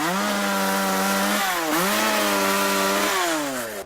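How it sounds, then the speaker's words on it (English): A chainsaw cutting wood runs loud and close, its steady engine whine dipping and recovering as the bar bites into the timber, with no talk over it. "is allowed to handle the chainsaw for the first time."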